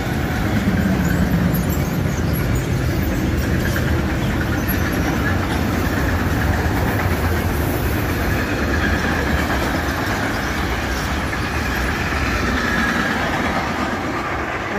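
A mixed freight train hauled by a DB Cargo class 185 electric locomotive runs through a station in Franconia, Bavaria, giving a steady, loud rumble and rolling wagon noise that holds for the whole stretch without letup.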